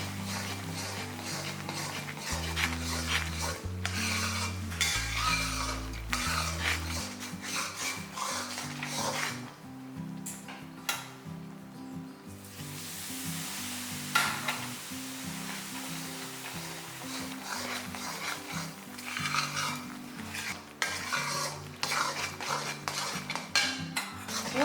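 Jaggery Mysore pak batter being stirred in a pan as warmed ghee and oil are poured in, giving steady scraping and rubbing strokes with light clinks of the utensil, all under loud continuous music.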